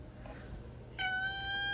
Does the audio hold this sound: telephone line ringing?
no